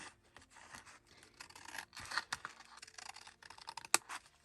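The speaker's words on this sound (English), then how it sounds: "So I'm going to cut this right now." Scissors snip through paper while an envelope is made for a junk journal, a series of soft, close crisp cuts and rustles with a sharper snip near the end, no talking.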